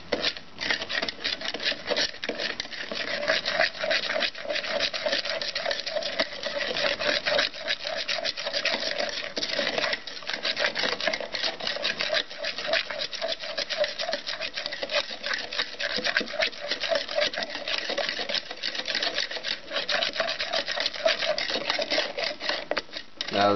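Homemade fake blood of red food coloring and sugar being stirred, a continuous scraping, rubbing swirl that runs steadily and fairly close throughout, with no pauses and no speech over it.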